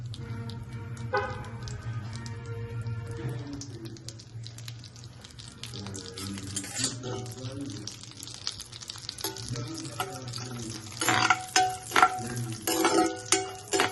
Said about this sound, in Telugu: ఇవన్నీ కూడా ఘీలో బాగా వేసుకుని ఫ్రై చేసుకుంటాం.